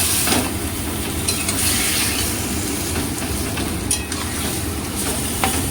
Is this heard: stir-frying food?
yes